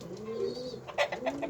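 A pigeon coos close by, giving a low, rolling throaty call followed by a few quick, softer bursts, with faint background noise and no talk.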